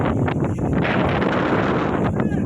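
Strong outdoor wind buffeting the microphone in a continuous loud rumble and roar, with a faint voice under the gusts.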